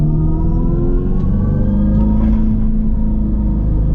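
A 2025 Dodge Charger Daytona EV accelerates with its synthetic engine sound effect, a loud, steady, close droning rumble with tones that slowly rise and shift, and no voices.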